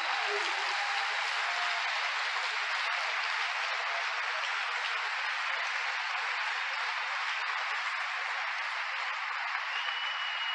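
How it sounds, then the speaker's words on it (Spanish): A church congregation applauds steadily for a brother during a sermon, a dense, even roar of clapping that holds at one level throughout, fairly faint and without speech. "Otras palmas para él,"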